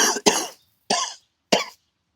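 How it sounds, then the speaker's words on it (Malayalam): A person coughs in three or four sharp, close bursts spaced roughly half a second apart, with silence after. "ചുമക്കുന്നുണ്ട"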